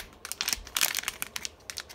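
The plastic packaging of a dollar-store fidget toy crinkles and crackles in quick irregular bursts as it is opened, close by with no talk.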